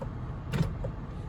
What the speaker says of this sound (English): moonroof operation